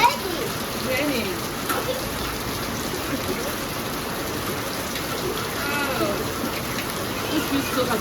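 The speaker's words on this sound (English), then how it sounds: "It's raining." Steady rain falls outdoors during laundry work in Africa, a dense, even hiss of drops on surfaces that continues throughout, close and fairly loud.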